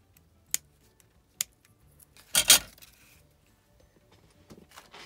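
Scissors snipping paper while making a junk journal embellishment, a few sharp isolated cuts and one longer rustling snip, close and quiet with pauses between.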